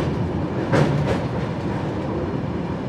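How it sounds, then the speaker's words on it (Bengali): Carriages of the LHB-coached Jagannath Express rolling over the Kolaghat bridge above the Rupnarayan river, a steady close rumble with a couple of brief louder clanks near the start and no voices. "কোলাঘাটের ব্রিজের ওপর দিয়ে যাচ্ছি, আর নিচে হচ্ছে রূপনারায়ণ নদী।"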